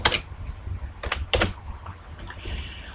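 A computer keyboard types a short word in Excel as quick, close clicks come in a few short bursts separated by brief pauses, with no voices.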